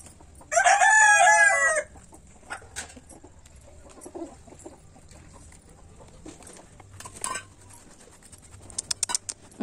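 A country chicken crows loudly and up close for almost two seconds, then gives a few faint, scattered clucks over quiet rural background noise, shortly before being slaughtered.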